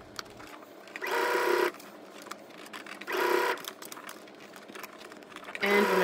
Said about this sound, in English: you're stitching on top of the lining as close as possible to the seam.